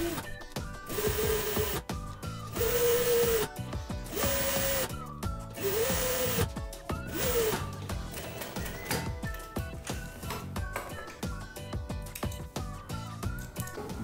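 Sewing machine stitching a seam on a women's outfit, running in several loud bursts of rapid motor whir separated by short pauses and light handling noise.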